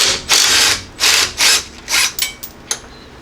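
A ratchet works loose half-inch shock mounting hardware under a Jeep Cherokee XJ: several quick, close ratcheting bursts, then a couple of shorter clicks as the bolt frees.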